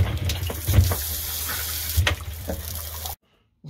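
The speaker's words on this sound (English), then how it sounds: "We can hear the pump running, and now we have water coming through there," A repaired Shurflo water pump runs with water flowing through it, giving a steady close hum and rushing, splashing wash with a few louder surges before the sound cuts off abruptly near the end.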